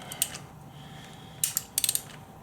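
Ratchet wrench snugging spark plugs on a Honda CB250 motorcycle engine, giving a few short, close clicking bursts, one early and a quick cluster near the end, over faint background hum.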